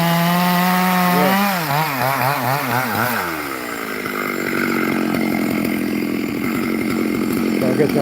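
A chainsaw revs up with rising and falling pitch, then bites into wood during farm land clearing, with a steady, loud grinding buzz that continues to the end.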